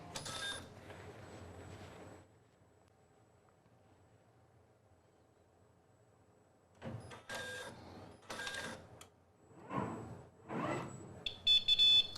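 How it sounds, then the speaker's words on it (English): An inkjet printer powers back on after a print head replacement, whirring and clicking through its startup cycle with bursts of motor movement and short electronic beeps, heard alone and close. "Go ahead and turn your printer back on."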